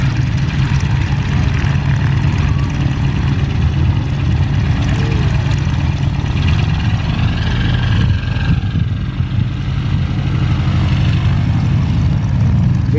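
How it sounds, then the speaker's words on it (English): Blue and yellow Army Air Corps Stearman biplanes taxi toward the runway at an airshow in Bealeton, Virginia, their radial engines and propellers droning loud and steady close by for the whole stretch, with no talk. "The flight lead is making its way to the end of the runway."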